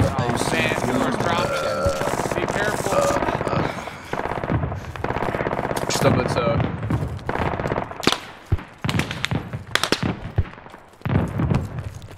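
Gunfire in the video game Squad with the Middle East Escalation mod: sustained, dense bursts of automatic fire and scattered single shots, loud and close, with impacts and thuds, while people talk over the shooting.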